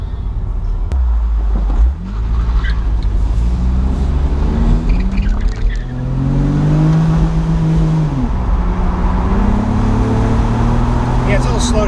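A BMW Z3 pulls hard in first gear, its engine rising in pitch as it accelerates, then easing off and climbing again, heard up close from inside the car with steady road and wind noise underneath.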